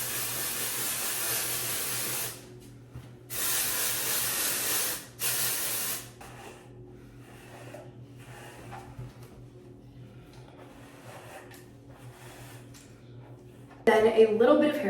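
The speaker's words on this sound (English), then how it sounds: "Then the texture spray." Texture spray misted onto hair while curling, several close aerosol bursts in the first six seconds, then quieter handling over a low hum and a brief clatter near the end.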